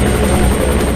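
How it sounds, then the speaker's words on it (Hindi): A helicopter flies close overhead, its rotor giving a loud, steady, throbbing chop with no voices. "कैप्टन, हेलीकॉप्टर को चारों तरफ घुमाओ।"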